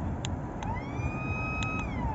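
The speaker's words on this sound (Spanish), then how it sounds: "a ver si se oye la bocina" A horn on a giant toy car converted to remote control sounds a sustained, slightly wavering electronic tone, with faint clicks heard alongside.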